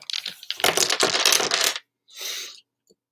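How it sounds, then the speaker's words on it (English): Dice tumble and clatter across a hard surface, a loud burst of bright rattling followed by a shorter second roll and a tiny final tick. "Clang, clang, clang, go the dice."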